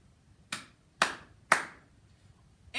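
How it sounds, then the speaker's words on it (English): Three crisp, loud claps with cupped palms, evenly spaced about half a second apart and close up, each with a short ringing tail in a quiet room, followed by the onset of a fourth. "when we clap, you can put your fingers against your palm, and if you cup your hand a little bit, it makes a nice loud sound"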